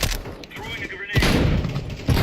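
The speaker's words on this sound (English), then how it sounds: "Throwing a grenade." Grenade blast and gunfire in a shooter video game: a dense, loud burst of shots and booms after a one-second lull, rumbling on to the end with a fresh hit near the close, mixed under speech.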